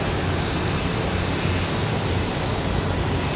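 A Copa Airlines jet in special livery departs Raleigh-Durham airport on a windy day, a steady, moderately loud engine roar that holds evenly throughout with no talk.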